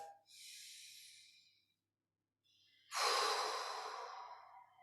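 A person takes slow, deep breaths during Wu Dang qigong practice, two long soft airy breaths close to the ear separated by a short silence, the second louder and fuller, with no speech.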